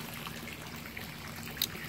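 Water trickles faintly through tubes feeding a backyard pond built from a pool, a soft continuous dribble with one brief brighter splash near the end.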